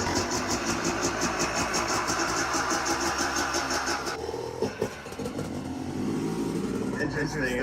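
A Yamaha YZ250 two-stroke dirt bike engine runs with a rapid, buzzy, steady pulse that drops to a rougher idle partway through, with a person talking over it.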